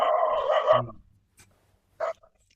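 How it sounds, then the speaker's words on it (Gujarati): A dog barks loudly once in a drawn-out bark, followed after a pause by a second short bark, close by with silence between. "એની પહેલા તો કૂતરું બોલી ગયું."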